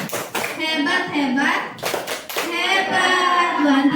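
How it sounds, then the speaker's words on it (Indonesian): A classroom group of teachers and students applauds for Bu Anti with steady, dense clapping under overlapping voices and chanting, carrying on for several seconds. "tepuk tangan buat Bu Anti"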